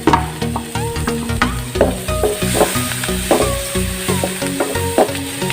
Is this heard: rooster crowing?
no